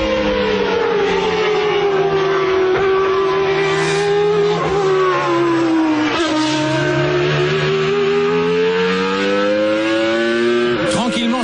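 Renault Espace minivan fitted with a 3.5-litre Formula 1 engine and sequential gearbox, screaming at very high revs near 14,000 rpm, rising and dipping as it shifts, loud and continuous.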